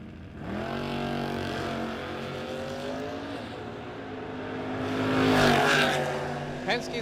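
A 1980 Malibu drag racing at Maple Grove Raceway, its engine droning with steady harmonic whine under a race announcer's voice, swelling louder as it nears the end.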